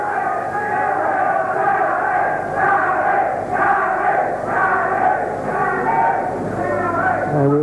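A packed boxing crowd fills the Plaza Ballroom with a loud, continuous roar of voices and cheering, rising in swells that build every second or so across the whole stretch.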